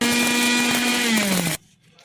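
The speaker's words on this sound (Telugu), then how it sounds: "ఇప్పుడు నేను మిక్సీ గిన్నెలోకి అయితే 4 యాలకులను అయితే తీసుకున్నాను. ఇప్పుడు వీటిని గ్రైండ్ చేసుకుంటాను." A kitchen mixer grinder whirs loudly as it grinds four cardamom pods in its jar, a steady high motor whine that slightly drops in pitch before cutting off abruptly, leaving near silence.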